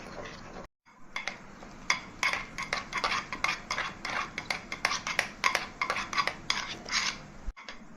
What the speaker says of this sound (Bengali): প্রথমে অল্প জল দিয়ে এরকম ঘুটে নিতে হবে, তারপরে পাতলা একটা পেস্ট বানাতে হবে।